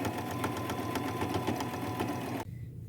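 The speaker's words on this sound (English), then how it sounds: "I'm going to use a zigzag stitch and stay close to the edges" A sewing machine runs a steady zigzag stitch along the edges of old jeans with gold thread, a dense buzzing whir with regular rapid pulses for about two and a half seconds before it stops abruptly.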